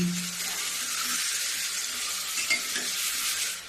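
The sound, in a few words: roasting dalia with peas, carrot and cauliflower on low flame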